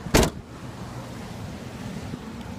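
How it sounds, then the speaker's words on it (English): A car trunk slams shut once with a sharp, loud thud at the very start, followed by quiet outdoor ambience. "Shutting the trunk."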